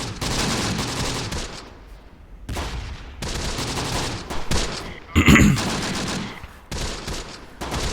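Gunfire and mortar fire in the World War II strategy game Close Combat, battle of Longstop Hill: bursts of rapid rifle and machine-gun fire in clusters with brief pauses and a heavier blast midway, fairly loud.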